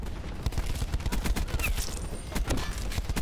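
Rapid automatic gunfire in the video game Black Ops 4, a dense fusillade of repeated shots close and loud throughout, with a light machine gun rattling in quick bursts.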